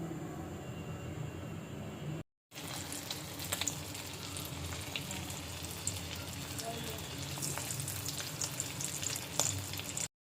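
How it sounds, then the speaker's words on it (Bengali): A piece of hilsa fish frying in oil in a pan, a steady low hiss and crackle with scattered pops that runs throughout, broken by a brief dropout, with faint voices underneath. "খিচুড়ির সাথে 1 পিস ইলিশ ফ্রাই।"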